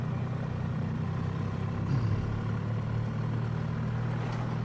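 A 2023 Triumph Rocket 3 GT motorcycle engine idling in second gear on a street ride, a steady low rumble with wind noise, constant and close.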